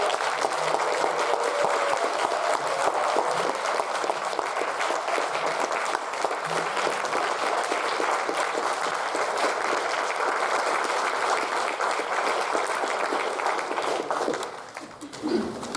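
A lecture audience gives a sustained round of applause for a guest speaker, dense steady clapping filling the room for about fourteen seconds before thinning out at the end.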